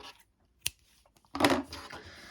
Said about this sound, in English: I'm going to stop here and I'm going to cut my yarn